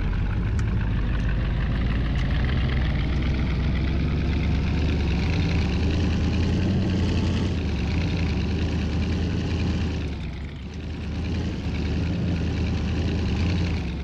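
A buggy's engine drones steadily while driving up Alpine mountain roads in Farming Simulator 2019, a loud, continuous low hum with a brief dip in revs near the end, and nobody talking over it.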